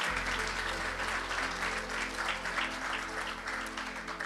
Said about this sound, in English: So please give yourselves also a big round of applause for showing up.